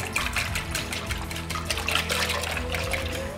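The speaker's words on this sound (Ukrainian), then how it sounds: "До збитого яйця додаємо молоко." A steady trickle of milk pours close by, splashing lightly into beaten egg in a bowl for a few seconds.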